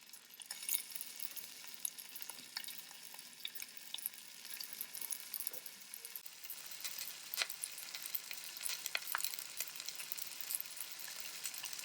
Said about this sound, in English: Now we're just going to move over to the stove and pan sear these. Add your olive oil, your bundles